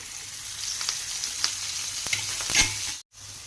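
Green chillies fry in hot oil with a steady, close sizzle, crackling pops and a few stirring clicks, then a sudden brief drop to silence near the end.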